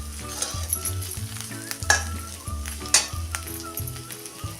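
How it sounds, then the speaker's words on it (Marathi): Steamed potato pieces sautéing in oil on a low flame, a continuous close sizzle with repeated spatula scrapes and a couple of sharper clinks against the pan. "असा बारीक मोठा तुमच्या आवडीप्रमाणे फोडून तेलात परतून घ्यायचा आहे. असा मिनिटभर परतूया."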